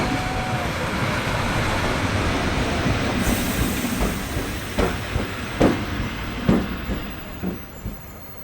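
A Tait electric multiple unit train pulls in at platform 2, giving a loud, steady rumble with a brief squeal, then rhythmic clicks of wheels over rail joints as it slows.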